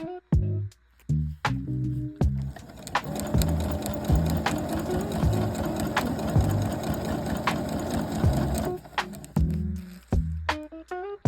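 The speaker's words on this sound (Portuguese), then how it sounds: "leve a máquina e bata uma costura exatamente nessa dobrinha aqui do viés, fazendo todo o contorno" Sewing machine stitching bias binding around the edge of a thermal, waterproof sandwich holder, running in a rapid steady mechanical chatter for several seconds, bracketed by short start-and-stop bursts, close and loud.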